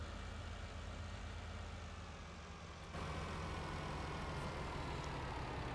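Heavy truck engine idling in Farming Simulator 19, a steady low rumble that holds throughout and gets slightly louder partway through, with no talk.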